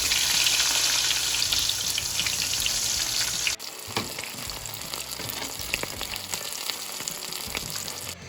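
Coated fish fries in hot oil with a loud, steady sizzle. Halfway through, the hiss drops and becomes quieter bubbling with scattered clinks. No one speaks.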